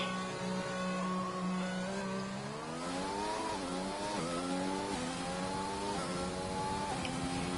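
A race car engine in a sim racing game at the Australian GP, pulling away on an outlap. It revs hard and climbs through several gearshifts in steady upward sweeps, loud and close throughout.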